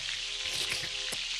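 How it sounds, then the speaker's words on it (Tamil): Chicken frying in hot oil gives a continuous bright sizzle, close and steady, with small popping crackles throughout and no talking. "எண்ணெயில் அப்படி பொரியுது நல்லா"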